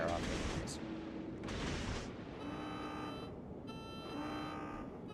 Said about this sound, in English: So here I'm firing off a couple of deterrent shots between these islands here.